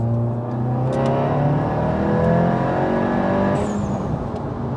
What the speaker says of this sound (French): tu peux nous faire une petite légère accélération pour passer une 4.